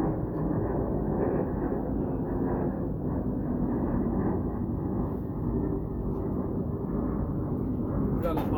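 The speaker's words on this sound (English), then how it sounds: "airplanes are taking off my direction again because of that storm that just passed" A Southwest airliner takes off overhead, a loud, steady low roar that stays broad and constant throughout, with a faint high whine creeping in near the end.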